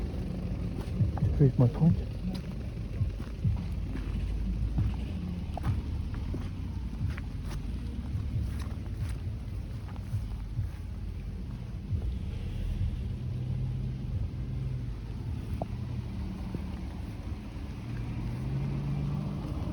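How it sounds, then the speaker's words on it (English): A steady low rumble of a vehicle passing nearby, with a voice briefly heard early on under the noise. "Obviously vehicle going past now"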